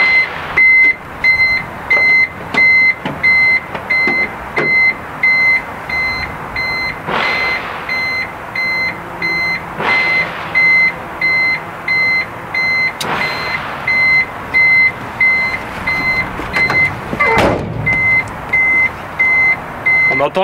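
A reversing beeper bulb on farm equipment sounds in a steady repeating pattern of short, piercing beeps, loud and close, with occasional clunks and noise in the background.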